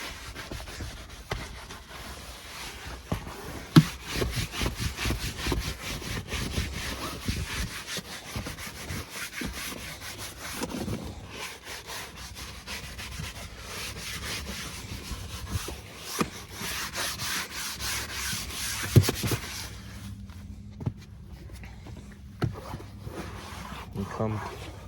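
A brush steadily scrubs a car seat during mobile detailing, giving a continuous rough rubbing with frequent quick strokes. It runs for about twenty seconds before stopping, with faint voices in the background.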